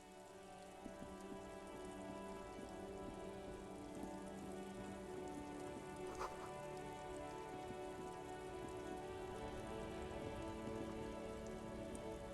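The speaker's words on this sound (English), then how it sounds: "This rain will not let up anytime soon." Steady rain in Disco Elysium, a dense, even patter on surfaces that holds constant throughout, fairly soft and continuous with no voices over it.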